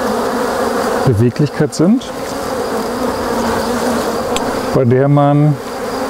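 Honeybees swarm and buzz in a loud, continuous drone at an opened Langstroth hive, with someone speaking German briefly over the humming.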